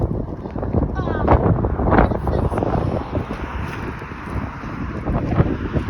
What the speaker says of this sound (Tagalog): Sugas hangin, oy.